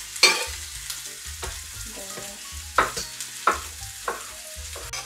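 Bell peppers sizzle in a hot pan while a utensil stirs them, with soft repeated scraping taps over a steady frying hiss; close and moderately loud, no talking.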